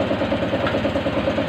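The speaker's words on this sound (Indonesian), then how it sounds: "Sekarang kita nyalain, kita tes gimana hasilnya setelah melakukan pergantian atau servis." A Honda Vario 150 scooter engine, just serviced for rough idle and weak power, idles steadily with a rhythmic, even chug, loud and close, with no talk over it.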